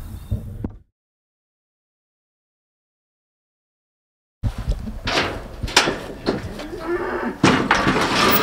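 Cows on a farm near a barn give loud, close moos after a stretch of silence, with clatter and bumps mixed in around the calls.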